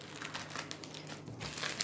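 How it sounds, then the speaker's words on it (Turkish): A plastic bag holding handmade lace trousseau pieces is opened, giving continuous close crinkling and rustling of thin plastic for about two seconds, with no talk. "Daha sonra şöyle poşetimi açalım."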